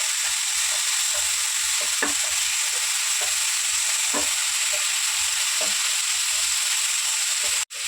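Okra curry frying in a pan after green chilli powder is stirred in, a steady close sizzle with occasional stirring scrapes throughout.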